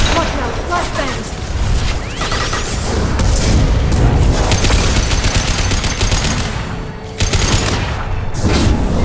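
Loud, chaotic combat in Mass Effect 2 with flashbang explosions, booming blasts and crackling gunfire layered densely for most of the stretch, a rising whistle-like streak early on, and a brief lull before more bursts near the end.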